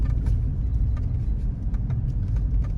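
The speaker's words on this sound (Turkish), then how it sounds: "şimdi arabanın sesini duyarsa yine siz de duymuş olacaksınız" A car passes outdoors near an animal shelter in snowy weather, a steady close engine rumble that holds throughout with no voices.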